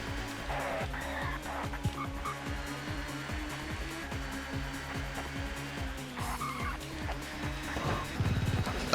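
Touring cars in the TOCA Touring Car Championship racing game brake hard, tires squealing and skidding over a droning engine that shifts pitch repeatedly, a dense racing mix with no talking.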